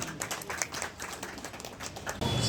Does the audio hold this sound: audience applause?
yes